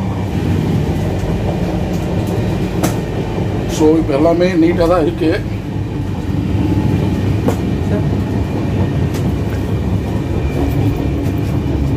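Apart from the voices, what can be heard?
Bhubaneswar Chennai Express train moving on the rails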